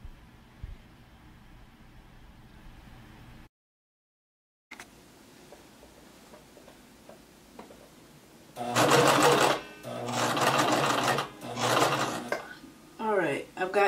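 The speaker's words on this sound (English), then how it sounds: "So I'm just lowering my needle, back stitching, and I'm going to start sewing all the way around." A home sewing machine stitches around the yoke and neckline of a dashiki shirt. After a quiet stretch, the motor whirs loudly and up close in three rapid bursts, each a few seconds long, with short pauses between them.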